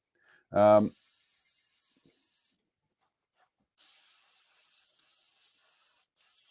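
An airbrush sprays model paint at very low pressure in two steady hissing bursts, close and continuous, with a brief voice heard just before the first burst.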